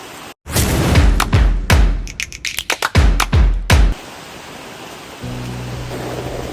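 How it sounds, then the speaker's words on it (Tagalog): Heavy typhoon rain roars at close range, broken by a series of loud thuds and bursts from handling or wind, then drops to a softer steady wash with a low hum near the end. "Medyo malakas yung ulan,"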